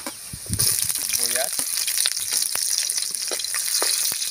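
Garlic sautéing in a pan for a Filipino monggo dish, a loud, steady sizzle with scattered stirring clatter throughout, and a voice speaking briefly over the frying.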